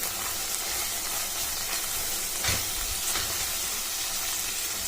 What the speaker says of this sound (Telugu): ఇవన్నీ ఆయిల్లోనే బాగా ఉడికించుకోవాలండి